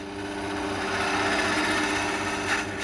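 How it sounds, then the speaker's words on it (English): A powered lathe turns beechwood chair legs, giving a steady, close motor whir layered with continuous cutting and scraping that rises slightly toward the end. "The one real concession that Stuart Linford makes to modern machinery is a powered lathe"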